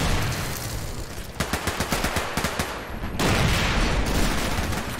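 Heavy gunfire from a Men of War: Assault Squad battle on the Soviet front: a dense roar of shots, then a string of sharp, evenly spaced bursts, then a loud, continuous barrage, with no voices.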